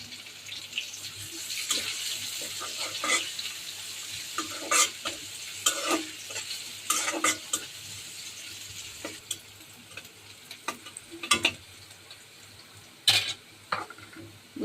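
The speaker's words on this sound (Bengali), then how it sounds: "এখানে একটু রসুন ভেজে নিলাম, এখানে এখন একটু পেঁয়াজ দিয়ে দিচ্ছি।" Garlic and onions fry in a pan with a steady, low sizzle, broken by repeated scraping and stirring strokes at an irregular pace; no one speaks.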